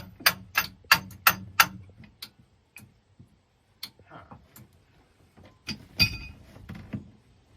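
Starter solenoid on a 1967 Chris Craft Roamer yacht with twin Ford 427 engines, clicking as the key is turned with a jump box connected: five quick, sharp, close clicks, then scattered fainter ticks and knocks and a heavier clunk near the end.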